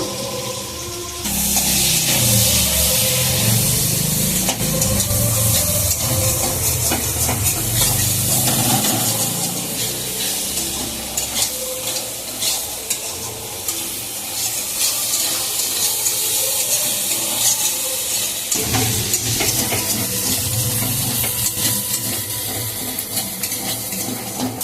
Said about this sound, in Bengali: তেল দিয়েছি, চিংড়ি মাছটাকে একটু ভেজে নেব।